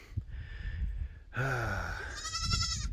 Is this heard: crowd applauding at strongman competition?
no